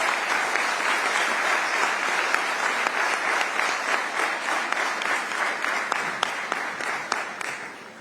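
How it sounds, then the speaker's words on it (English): Sustained audience applause fills a summit hall, steady dense clapping throughout with no talk over it, tapering slightly at the end. "Audiences, I think she deserves a big round of applause."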